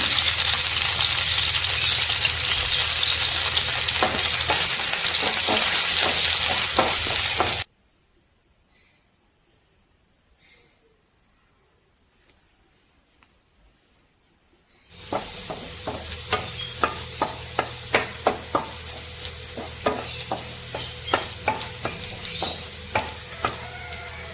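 Shallots and curry leaves frying loudly in coconut oil in a pan, a dense crackling sizzle that cuts out for several seconds of near silence, then returns with sharp popping spatters.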